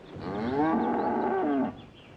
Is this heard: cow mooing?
yes